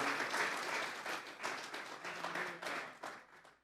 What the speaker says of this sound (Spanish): Denles ofrenda de palmas a Dios en esta hora.